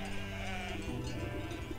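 A black sheep in the Wytchwood video game bleats over a steady, dense bed of background game sound, with its call carrying clearly through the full stretch.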